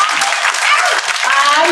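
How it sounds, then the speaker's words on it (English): A brief burst of audience applause at a live show, a dense, steady wash of clapping with voices mixed in, lasting under two seconds. "let's give her the clap"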